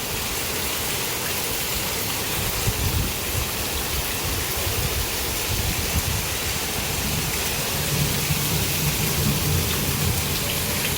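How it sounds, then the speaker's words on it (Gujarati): Heavy monsoon downpour with lightning and thunder, a dense, loud, continuous hiss of rain with low rumbles underneath, steady throughout with no voices. "મસ્ત મજાનો વરસાદ ચાલુ થઈ ગયો. વીજળીના કડાકા સાથે પાણી પણ આટલા ફૂલ વરસાદમાં મસ્ત ભરાઈ ગયું છે."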